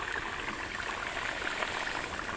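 Water is poured into a simmering chicken curry, making a steady, soft trickling wash that runs continuously at low level and close by.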